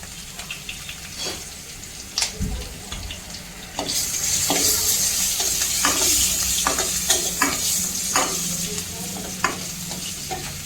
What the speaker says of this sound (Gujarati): મરચાંને થોડા તળાવવા દઈશું